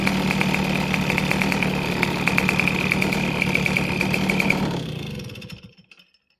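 A BIG DEPS 4 engine running on its first start, a steady, close mechanical drone with rapid firing pulses that cuts off and fades to silence near the end.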